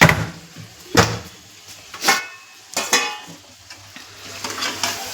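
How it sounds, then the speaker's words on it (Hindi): Beef curry masala fries in a pan with a soft sizzle, punctuated by repeated scraping stirs of a spoon against the pan at roughly one-second intervals, close and without talk. "अभी मैं ये अच्छे से भून रही हूँ"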